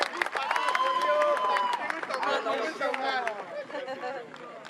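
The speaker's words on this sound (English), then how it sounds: "let's get a round of applause for your MVP" A crowd claps and cheers for the MVP at an NFL Flag 15U co-ed international flag football championship, with steady applause and chatter sustained throughout and fading slightly toward the end.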